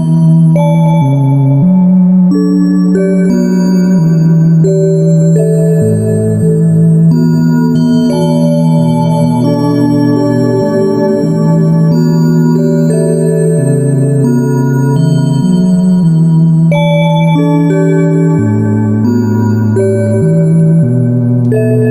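Ambient modular synth patch with random CV from a Marbles module modulating decay and reverb, loud sustained tones with chords shifting slowly and washy reverberant tails, drifting continuously for over twenty seconds with no voices.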